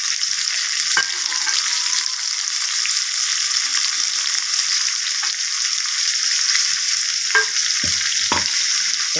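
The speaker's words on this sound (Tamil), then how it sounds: "வெங்காயம் வதங்கிட்டுக்கு ஒரு மீடியம் சைஸ் தக்காளி ஒன்று கட் பண்ணி போட்டுக்கேன்" Onion and tomato fry in a pan with a continuous, fairly loud sizzle. A few sharp scrapes and knocks from stirring break through now and then, and no one talks.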